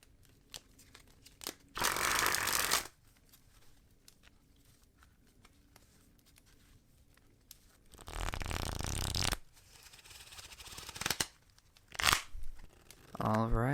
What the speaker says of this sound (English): Now, I will begin by shuffling the cards.